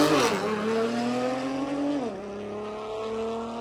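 A BMW drag racing car revs hard through its gears on the strip, each rising engine pitch dropping back at the shifts. The sound stays loud and close throughout.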